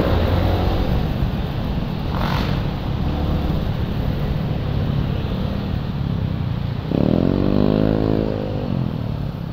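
A Z400 motorcycle being ridden on the road gives a steady engine drone under heavy wind rush, and its revs climb audibly in a rising pitch sweep near the end.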